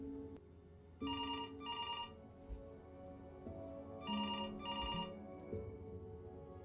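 Inside the video game Before Your Eyes, a telephone rings in two paired bursts, a shrill electronic trill repeating over a low ambient music bed.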